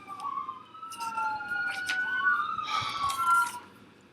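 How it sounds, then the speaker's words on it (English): An emergency vehicle siren wails through a city intersection, rising and falling in sweeping tones that swell as it passes close by, over low traffic rumble and a few brief horn-like bursts. "Now here, we have to pause for the siren."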